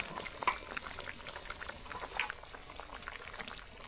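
Silver carp fish curry bubbling in a pot, a steady close simmer of popping bubbles with a couple of slightly louder bursts, fairly quiet and continuous, no talk.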